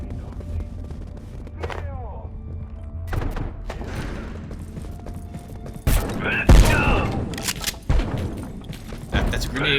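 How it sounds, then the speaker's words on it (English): A grenade explosion in the Abiotic Factor video game, a series of sharp booms and thuds amid gunfire and clanking mechanisms, with a voice shouting over the chaos. "That's a grenade."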